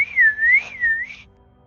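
A person whistles a short, clear, wavering tune up close, rising and dipping in pitch over about a second before fading.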